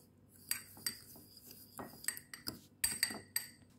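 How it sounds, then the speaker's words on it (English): A spoon scrapes and clinks against a mug while mug cookie batter is mixed with brown sugar: quiet, irregular taps and light rings, close and sparse, with no talking. "Mix that all up."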